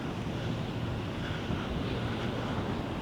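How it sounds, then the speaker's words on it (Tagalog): Rough sea waves roll in at a Florida beach under steady wind, a continuous broad wash of surf and gusts with no voices. "maalon yung dagat dito"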